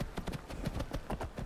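Horse hooves clip-clop at a quick, even trot in Skyrim with the Wildlander mod, a close, steady patter of footfalls with no talk over it.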